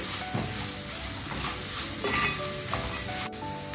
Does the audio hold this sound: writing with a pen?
no